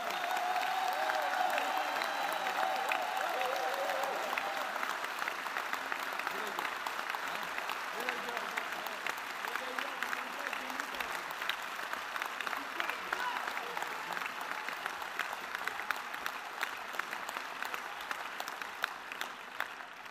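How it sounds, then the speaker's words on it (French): Festival crowd at the Fête de l'Humanité applauding, a long, sustained wash of many hands clapping at a distance, moderately quiet and even throughout, with a brief voice near the start. "Je veux qu'on fasse un tonnerre d'applaudissements pour Thibaut Weiss."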